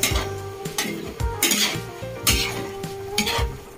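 Yakisoba noodles being stirred with sauce in a pan, with repeated scraping and clinking of a utensil against the pan over a faint sizzle, close and steady, with no talk.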